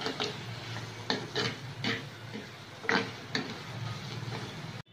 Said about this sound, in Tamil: இந்த வெங்காயம் நல்லா வதங்கிட்டு இருக்கு.